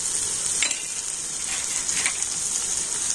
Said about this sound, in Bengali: আর এখন আমি পেঁয়াজ আর রসুনটা একটু হালকা লাল করে ভেজে নেব।